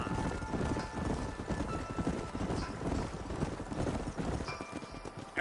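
In Red Dead Redemption, several horses gallop with dense, continuous clip-clop hoofbeats. The sound stays loud and busy throughout, with faint wind and movement underneath.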